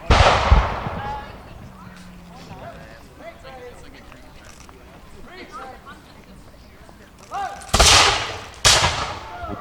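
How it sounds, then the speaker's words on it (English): British musket and cannon fire at a Battle of Stony Point reenactment: a sharp volley at the start, then two loud booming shots near the end, with a narrator talking and crowd noise between. "With the British firing now"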